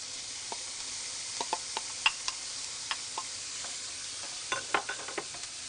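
Diced onion and carrot soften in olive oil in a pan, a quiet steady sizzle with sharp utensil taps and scrapes ticking irregularly throughout.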